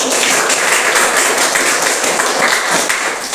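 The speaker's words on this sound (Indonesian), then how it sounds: "Tepuk tangan untuk kita" Dense, steady applause from a group, continuous clapping filling the whole stretch without pause.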